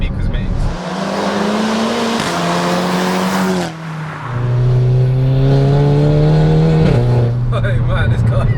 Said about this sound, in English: Oh man, this car. It sounds sick, you know that? From a van, it's mad.